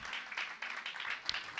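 Church congregation clapping hands together during a prayer and healing service, a fast, even patter of many hands, moderately distant and fairly soft.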